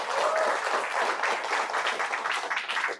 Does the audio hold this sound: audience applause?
yes